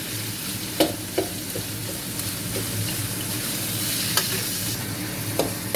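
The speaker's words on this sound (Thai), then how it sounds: "ใส่หมูสับ แล้วก็ผัดให้สุก" Minced pork stir-frying in a pan, a steady close sizzle with scattered scraping clicks of a utensil stirring through it, no voices.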